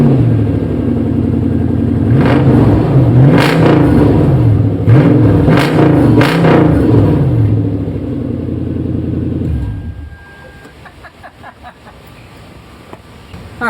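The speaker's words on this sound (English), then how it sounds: "I'm going to go ahead and get a quick video of open headers" A Toyota Sequoia running open headers fires up and revs hard in loud, rough bursts of blaring engine noise, then drops away at about ten seconds to faint ticking and quiet background.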